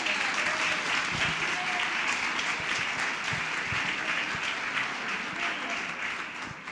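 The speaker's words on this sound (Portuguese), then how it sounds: "Pode aplaudir ao Senhor." A church congregation applauds steadily throughout, a dense, continuous wash of clapping that holds at an even level and fades slightly toward the end.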